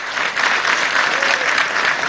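A large audience at a public event applauds dignitaries on stage, a dense, loud, steady wash of clapping lasting a couple of seconds.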